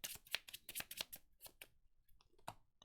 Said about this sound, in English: Make sure that's all shuffled.